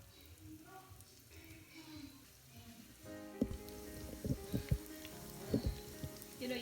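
Potato hash browns frying in hot oil in a pan, a steady soft sizzle that grows busier halfway through, with scattered pops and crackles close by.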